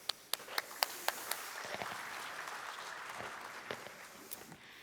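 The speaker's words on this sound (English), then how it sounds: "I hope you'll join me in applauding this panel" Audience applause for a panel at a talk on waste and value creation, opening with several sharp individual claps before settling into a steady, moderately distant round of clapping that continues to the end.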